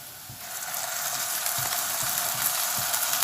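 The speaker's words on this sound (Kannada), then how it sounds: "ಇದಕ್ಕೆ ಶುಂಠಿ ಬೆಳ್ಳುಳ್ಳಿ ಪೇಸ್ಟ್ ಹಾಕ್ತಿದ್ದೀನಿ." Ginger garlic paste frying with onions in a pan for a mutton fry, a steady bright sizzle that swells slightly after the start, with a few soft spoon scrapes and taps.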